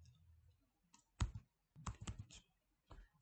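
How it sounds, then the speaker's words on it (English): Quick bursts of computer keyboard typing while entering a formula into a custom column in Power Query in Power BI, a few separate clusters of crisp key clicks, close and clear, with quiet gaps and no talk. "You just start typing."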